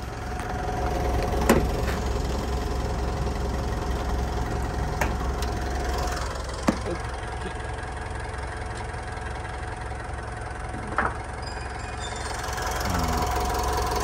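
A 2014 Mitsubishi Pajero Dakar VGT diesel engine idles steadily with a low, continuous rumble and hum, punctuated by a few faint clicks and knocks.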